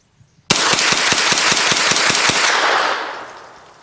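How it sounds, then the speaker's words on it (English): A 9mm FX9 carbine fitted with an AKTIVE buffer and a heavy-duty spring fires a rapid string of about ten loud, evenly spaced close shots. A short ringing tail follows the last shot. "We'll try 10 shots and see if it runs."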